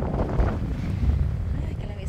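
Gusty sea wind on the coast of South Batan, Batanes, buffets the microphone with low rumbling bursts, fairly loud and close, over a short stretch.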